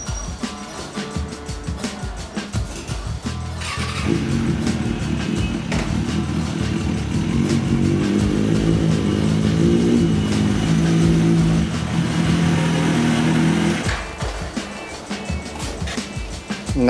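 A motorcycle engine rumbles nearby, rising into a sustained, louder rev through the middle before dropping back to a steadier running note, with no talking over it.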